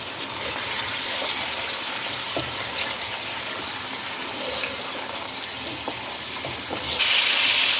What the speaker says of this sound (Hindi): एक कढ़ाई में ऑयल ऐड करें। ऑयल डालें तो इसमें 1 kg चिकन वो डाल दें इसके अंदर और चिकन को फ्राई कर लें।